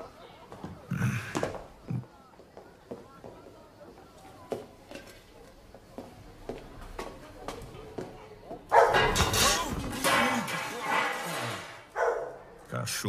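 Dog barking in a comedy film scene, a series of short sharp barks and yips spread across the clip, followed by a louder, denser burst of noise near the end.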